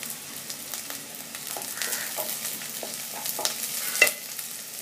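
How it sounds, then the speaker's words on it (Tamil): Onions fry with green chillies and ginger for chana masala, a close, steady sizzle with frequent spoon scrapes and stirring clatters throughout, no talking. "வெங்காயம் நிறம் மாறியாச்சு. அதுக்கு மேலே பச்சை மிளகாய், இஞ்சி போட்டுக்கணும்."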